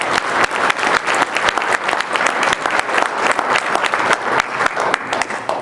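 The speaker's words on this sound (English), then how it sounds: "Let's give Tom a round of applause." A room of volunteers at an indoor sled-dog race training class claps for Tom, loud close crisp applause with distinct individual claps, sustained for several seconds.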